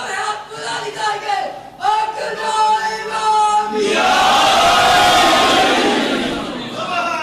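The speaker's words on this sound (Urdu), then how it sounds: "وہ نعرے لگوا رہا ہے." At a Shia majlis religious gathering in Dhudyal, a single voice calls out in bursts, then a large crowd answers with a loud, sustained unison slogan shout that swells and fades over several seconds.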